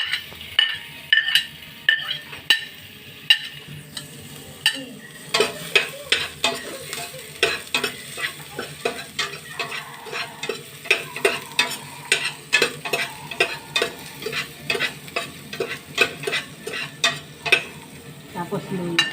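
Garlic and onion sautéing in a pan for Bicolano-style tinolang manok, a bright sizzle under quick repeated scraping strokes of a utensil against the pan, close and fairly loud.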